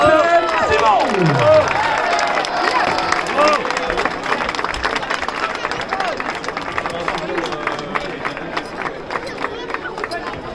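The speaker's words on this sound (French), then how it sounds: "On peut applaudir Michael Simon." Spectators at a 5 km road race in Fontenay-aux-Roses clap and cheer for the finishing winner, a steady outdoor patter of applause mixed with crowd chatter and voices talking nearby throughout.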